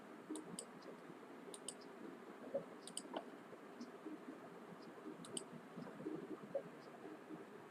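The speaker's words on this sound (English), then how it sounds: "I'm just typing the chat box." Light clicking keystrokes on a computer keyboard as someone types into a chat box, scattered soft taps over a low steady background hiss, faint and close.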